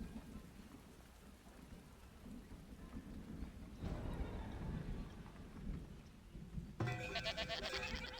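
Goats in the Farthest Frontier game bleating a few times against a steady wash of rain with thunder rumbling, quiet and somewhat distant at first, then a louder burst near the end.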